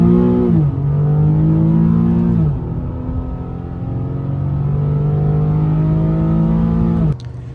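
Infiniti G37 with its VQ engine pulling 0 to 60 on a hill: loud, close revving that climbs in pitch through several gear shifts, each upshift dropping the tone before it rises again, ending abruptly.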